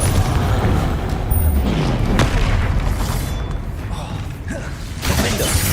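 Confringo blasting spell cast in the video game Hogwarts Legacy: loud fiery blasts and shattering impacts amid dense combat noise, with a voice speaking over the action.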